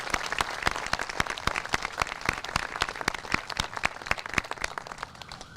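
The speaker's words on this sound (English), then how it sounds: "give a round of applause for everybody that I mentioned" A modest crowd at a Support Our Troops rally claps, the individual hand claps distinct and sparse, fading gradually over several seconds.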